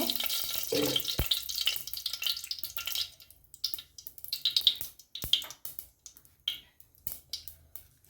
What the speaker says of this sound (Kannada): ಈಗ ಒಂದು ಪಾತ್ರೆ ತಗೊಂಡಿದ್ದೀನಿ ಏಡಿ ಸಾರು ಫ್ರೈ ಮಾಡಲಿಕ್ಕೆ